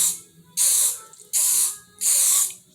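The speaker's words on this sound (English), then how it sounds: "I just spray it on there, get a good coat, right?" Three firm bursts of aerosol insect repellent sprayed onto a glue-covered hardwood floor, each hissing spray lasting about half a second to a second with short pauses between, close and loud.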